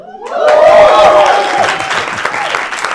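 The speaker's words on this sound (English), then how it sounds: "Y'all give yourself a round of applause." A live late-night comedy talk show studio audience bursts into loud applause and cheering, swelling quickly and staying strong before easing slightly, with a voice calling out at the start.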